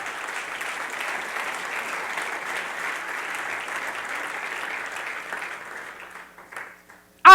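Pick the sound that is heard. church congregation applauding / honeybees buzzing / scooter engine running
church congregation applauding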